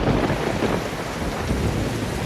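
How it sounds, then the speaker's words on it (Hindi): Heavy rain falls steadily with deep rolling thunder rumbling underneath, a dense, loud, continuous storm wash with no voices. "एक दिन भारी बारिश हो रही थी।"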